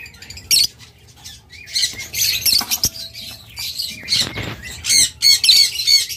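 A pair of yellow pet birds squawk and chirp in sharp, irregular bursts close by, shrill calls coming in clusters separated by brief quiet gaps.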